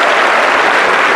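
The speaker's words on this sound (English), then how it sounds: "big round of applause to Brunei." A loud burst of dense audience applause for the Brunei delegates at an ASEAN Young Leaders Summit, constant and close, with no voices heard over it.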